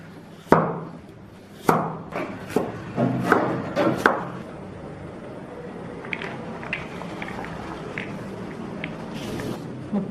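Knife dicing carrots on a cutting board, a run of sharp distinct chops with uneven spacing, close and clear, followed by fainter, lighter taps, with no talk.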